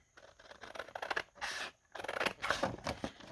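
Scissors snip through junk mail envelope paper in a series of close, crisp cuts with short pauses between strokes, quiet and alone.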